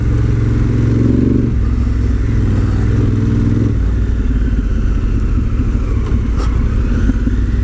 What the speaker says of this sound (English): bike revving a bit because I'm in sports 3, so it tries and holds the revs higher